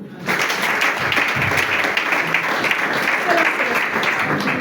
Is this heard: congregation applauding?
yes